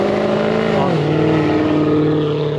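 Rally car on a road rally, a close loud engine drone that sweeps down in pitch as it passes, brief and continuous, with no talking.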